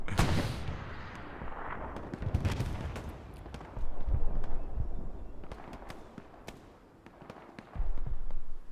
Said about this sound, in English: the commander for the Allies is infuriated and launches a couple artillery strikes on Win 70